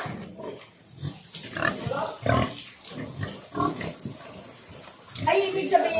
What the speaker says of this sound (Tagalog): Sige, baboy na yan.